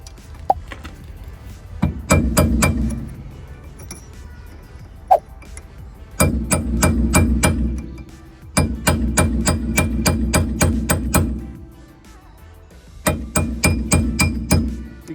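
A hammer striking metal while knocking off a rear wheel bearing dust cover on a Skoda Superb, in several bursts of rapid sharp clanking blows separated by short pauses, close and loud.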